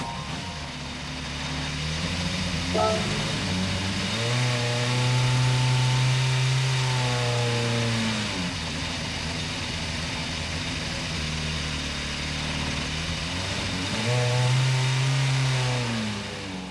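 A Honda N-One 2+4Rs fitted with a bike engine in a racing game, its high-pitched motor revving and shifting repeatedly, pitch climbing and falling in waves through gear changes, loud and steady throughout.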